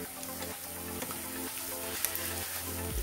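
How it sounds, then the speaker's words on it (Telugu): Onions fry in a pan with spices for a cabbage curry, giving a steady, close sizzle and crackle that runs without a break and with no talking. "ఉల్లిపాయ కలర్ మారేంత వరకు ఫ్రై చేసుకోవాలి"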